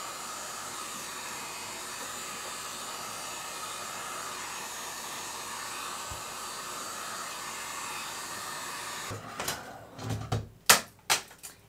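A heat gun blows hot air with a steady, even roar that runs unbroken, followed by a few sharp handling knocks and clatters near the end.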